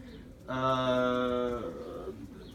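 A racing pigeon at the loft gives one rich, droning coo lasting about a second, fairly close, over quiet background noise.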